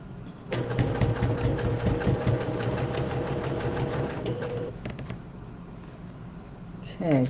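A sewing machine top stitching a shirt sleeve runs in a steady, rapid mechanical chatter for several seconds, close and moderately loud, then stops, leaving a quieter room with faint movement.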